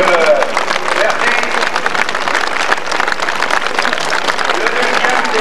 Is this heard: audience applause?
yes